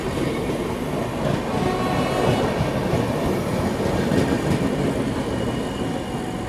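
The Garib Rath Express rushes past another train in a steady, loud rumble of wheels on rails, with continuous clatter and roar throughout and no voices.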